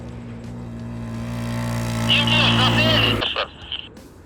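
An Irbis SF300 SL prototype snowmobile races a utility Tungus 500L at a snowmobile competition, producing a steady engine drone whose pitch climbs into a whine before cutting off sharply, followed by a few short engine bursts.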